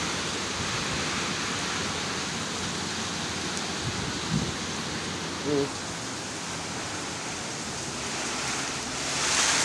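Sea waves pounding the shore in Quezon Province during Typhoon Aghon: a broad, unbroken roar of surf and wind-driven water, steady and loud, with a faint voice briefly audible.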